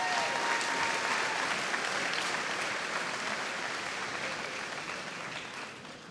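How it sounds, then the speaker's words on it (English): A crowd applauds warmly at a school graduation ceremony, steady, dense clapping that fills the room and tapers slightly toward the end, with no voices over it. "can you give a huge, huge round of applause to Mr. Butcher's class, Class May."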